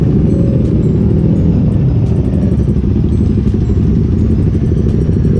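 Motorcycles, including a Kawasaki Ninja 650 and an RC 200, race at full throttle, their engines a loud, constant roar with rattling clatter close by for the whole stretch and no talk.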